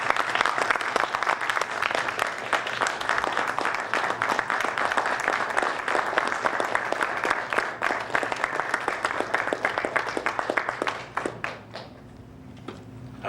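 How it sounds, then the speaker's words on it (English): A long round of applause from an audience at a talk on church and state, with many hands clapping steadily and loudly before thinning out to a few scattered claps at the end. "How about a round of applause for..."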